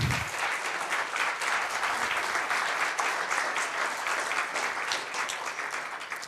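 An audience at a chess final in Paris breaks into dense, steady applause that holds evenly for several seconds, many hands clapping at once.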